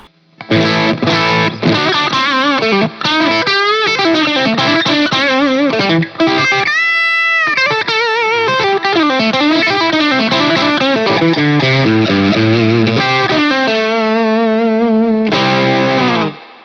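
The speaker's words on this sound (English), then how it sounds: "here's both pickups together split, which I think on a drive sound is a really cool, kind of interesting, unique sound" Overdriven electric guitar with both pickups on together in split mode, playing a continuous melodic line with a slightly hollow, thin tone, sustained and loud from start to finish with a brief dip midway.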